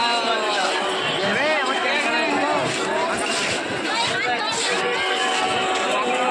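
Dense crowd chatter at Sheoraphuli railway station after a train arrives, many overlapping voices forming a continuous loud babble close around, with a few voices standing out.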